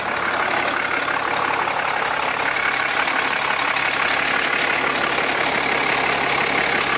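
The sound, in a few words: truck engine starting and idling after oil filter change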